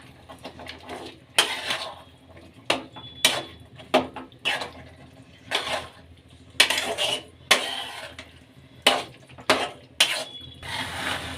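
Peas and potatoes being stirred in a pan for a potato curry, with repeated scraping and clattering strokes of a spoon against the metal in an uneven rhythm, loud and close.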